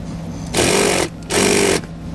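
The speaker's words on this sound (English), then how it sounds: "Now to hold my bolt in place, I'll go ahead and install a nut and tighten it down." Nut being power-tightened onto a bolt while installing an SMI Stay-IN-Play DUO braking system on a 2015 Cadillac SRX: two half-second bursts of loud mechanical whirring, close up, with a short pause between.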